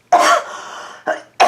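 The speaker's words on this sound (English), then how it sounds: "Regular cough, not a COVID cough." A woman's regular coughing fit indoors: one strong, drawn-out cough burst, then two shorter coughs, close and fairly loud, with no talking.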